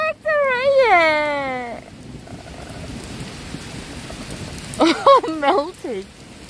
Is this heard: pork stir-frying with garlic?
no